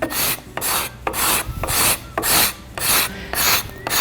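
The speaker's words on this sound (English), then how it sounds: "take a scraper and kind of finish cleaning it up with that scraper" A hand scraper shapes a wooden spindle for a sculpted rocking chair in repeated rasping strokes, about seven rhythmic scrapes with short pauses between, close and clear with no talking.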